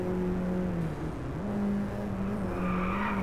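Mini Cooper JCW GP 1.6 16V THP racing in the video game Drive Club, a steady droning engine note with tires scrubbing through a turn and a brief run onto grass, heard alone and fairly loud.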